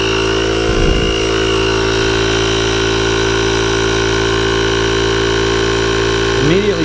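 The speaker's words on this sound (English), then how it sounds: "let it start pumping up." A custom 4WD tire inflator runs as a steady, loud mechanical drone with a constant motor hum while pumping up a tire, with a couple of brief clunks near the start and end.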